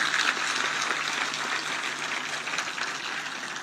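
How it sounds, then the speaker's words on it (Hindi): Sustained applause from an audience at the inauguration of the Uttar Pradesh Disaster Management Authority's new headquarters in Lucknow, a dense steady clapping that fills the whole stretch at moderate loudness with no voices over it. "जोरदार तालियां बजाएं।"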